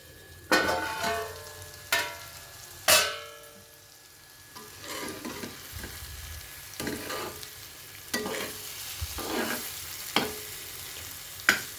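Eggplant masala curry cooking over a low flame in a pan, with soft sizzling and frying beneath repeated stirring scrapes that come in distinct strokes, close and clear.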